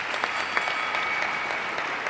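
An audience at a drug legalization debate applauds with steady, dense clapping that holds at an even level for a couple of seconds, with no voices over it.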